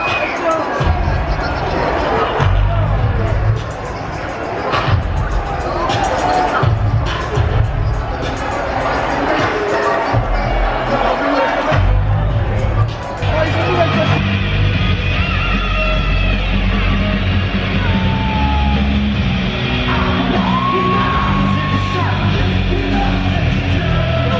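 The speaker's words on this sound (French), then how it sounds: "vous imaginez pas la réaction de la foule quoi" A huge WrestleMania 35 crowd at MetLife Stadium roars and yells loudly and without letup, a dense wall of cheering that fills the whole stretch, with a nearby voice talking over it.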